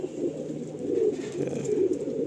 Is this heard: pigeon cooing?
yes